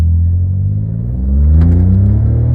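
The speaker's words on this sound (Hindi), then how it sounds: "जो साउंड आ रही है ना एग्जॉस्ट की" A Stage 1 tuned 2024 VW Virtus 1.0 accelerates hard with a loud, close exhaust drone. The engine note climbs steadily in pitch as revs build, with a brief dip in the middle, and no one speaks.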